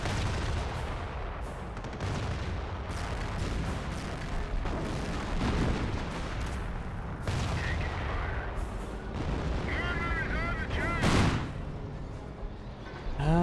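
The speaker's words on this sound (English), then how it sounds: "Maybe a flak 88 shot." Battle din in the Company of Heroes WWII strategy game, with a possible Flak 88 gun shot among repeated heavy artillery booms and gunfire cracking over a constant rumbling backdrop.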